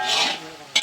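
Goat meat frying in a pan for a meal of rice and meat, giving a steady close sizzling hiss, with a brief louder clatter near the end.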